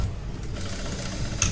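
A sewing machine stitches a royal blue lehenga saree, a short burst of close, rapid mechanical whirring with a faint click at the end.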